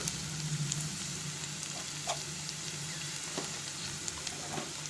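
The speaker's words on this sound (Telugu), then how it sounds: "అవి అలాగే నూనెకి వేగితే మంచిది" Vegetables, including flat beans, fry in oil in a pan, a steady close sizzle and crackle with an occasional faint stir or tap, no voices over it.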